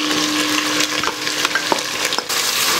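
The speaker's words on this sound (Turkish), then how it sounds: "Güzelce karıştırdık." Meat and onion sauté in a pot while a spoon stirs, giving a steady sizzling hiss broken by several scraping clicks, close and fairly loud with no voices.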